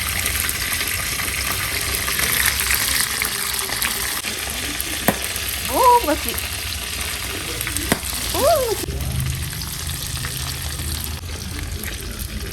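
Food fries in a wok with a steady sizzling hiss, faint clinks of stirring and a few brief voices speaking over it.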